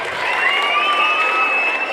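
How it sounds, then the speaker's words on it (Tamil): An audience claps steadily and enthusiastically at a Kalari martial arts festival, a dense continuous burst of applause with faint crowd voices and a thin sustained tone running through it. "உற்சாகமாக கைதட்டுங்க"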